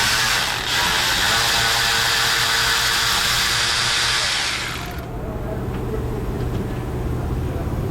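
A power tool drives out the thermostat housing bolts on a car engine, a loud, steady whirring buzz that cuts off about midway and leaves a quieter hum.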